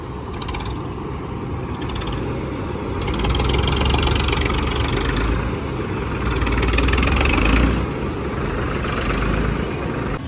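A combine harvester engine gives a steady, loud drone throughout during a rice harvest, swelling twice with heavier throttle, with a faint mechanical clatter underneath.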